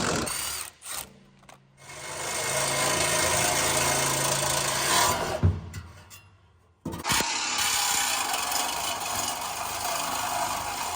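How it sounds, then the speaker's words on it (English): A Sawzall reciprocating saw cuts through the factory exhaust pipe on a 2019 Chevrolet Silverado, loud buzzing bursts of cutting, a brief pause near the start and a sharp break partway through, close up. "a couple of snippies with the Sawzall, because we're not going back to stock"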